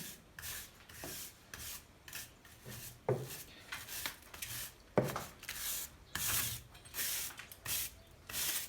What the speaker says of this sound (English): I just want to brush all the excess off.